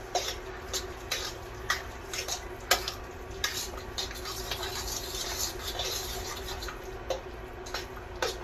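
A spoon stirs sautéed green pepper, red pepper and white onion into a pot of smoked Cajun mac and cheese, making soft irregular wet clicks and scrapes, close and continuous, with no talking.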